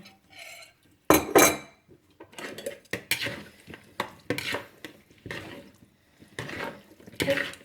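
Utensils clink and scrape against a bowl or plate while tossing a Thai water mimosa and fresh shrimp salad, a series of irregular close clatters and stirring scrapes separated by short pauses.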